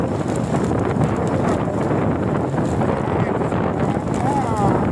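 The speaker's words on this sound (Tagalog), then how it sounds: "Ako ngayon, malakas ang alon, hangin." Strong wind buffets the microphone in a steady roar, with waves washing underneath throughout; a loud, constant outdoor rush.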